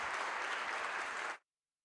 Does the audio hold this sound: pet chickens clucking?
no